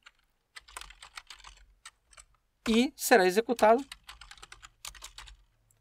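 Typing on a computer keyboard while a Linux gateway server script is being entered, sparse quiet clicks and short bursts of keystrokes, with someone speaking briefly over them partway through.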